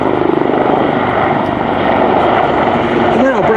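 Two Royal Navy Wildcat helicopters roar steadily overhead at an air show, a dense loud rotor and engine wash with a faint descending whine near the end.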